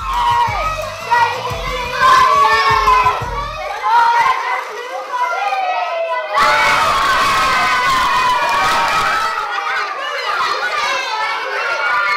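School classes cheer and shout at a Scalextric slot-car race, a noisy crowd of children's voices rising and falling, with a fresh burst of loud cheering partway through.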